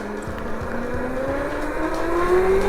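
An ETM RTR electric bike ridden in its 6 kW power mode gives a steady rising motor whine that climbs in pitch as it speeds up, with wind rush and road noise, close and continuous.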